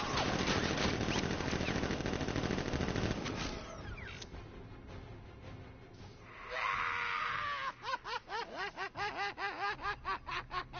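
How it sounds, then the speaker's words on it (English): Guards open fire in a PS4 video game, with dense bursts of automatic gunfire up front, then a quieter lull, followed by a rapid series of rhythmic, sweeping synthetic shots and effects near the end. "Guard! Open fire! Shoot everything! Now!"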